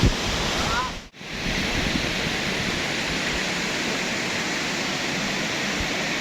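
Loud, steady rushing roar of the Grojogan Sewu waterfall in Tawangmangu, continuous broadband water noise with a brief dropout near the start, and no voices present.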